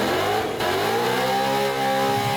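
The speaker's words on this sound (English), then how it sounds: "All right, so here's some drag racing." A drag racing car, among 1100 hp Shelby GT500s, GT-Rs, twin-turbo R8s and Tesla Plaids, roars down the strip, a loud sustained engine note rising steadily in pitch as it accelerates, close and alone.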